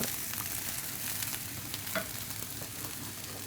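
Eggplant frying in oil in a pan, a steady, even sizzle at moderate level with faint stirring, continuous and free of voices.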